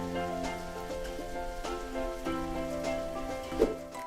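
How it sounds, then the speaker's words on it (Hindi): Light rain patters softly and evenly, the first drizzle of the season, under sustained musical tones. "इतने में हल्की हल्की बूंदें पड़ने लगी"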